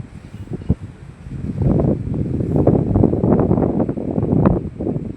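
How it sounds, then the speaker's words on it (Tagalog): Gusty wind buffeting the microphone, rising and falling in loud blustery waves with no voices. "Ang sarap ng hangin, guys."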